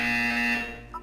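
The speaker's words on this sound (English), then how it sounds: "When you hear the buzzer, look up at the ceiling." A loud electronic buzzer tone from the Portal 2 video game sounds steadily for about half a second, with a sustained harmonic tone, then fades into quieter chirping electronic blips.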